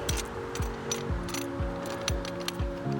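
Ratchet wrench loosening the bracket bolts of a BAK Flip MX4 tonneau cover on a pickup bed, giving a close, steady series of clicking ratchet strokes at a brisk rhythm with no talk.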